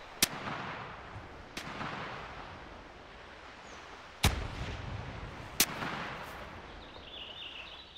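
Rifle gunshots in the hunting game theHunter Classic ring out as four sharp reports spaced irregularly over a quiet outdoor ambience, two near and loud, two lighter, each trailing a short echo.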